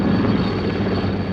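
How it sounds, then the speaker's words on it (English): A Wessex helicopter passes over a fleet of small boats forming up at sea, its rotor and engine making a loud, steady, close droning throb throughout. "A Wessex Helicopter flies over the little fleet as they form up in a circle before their homeward voyage."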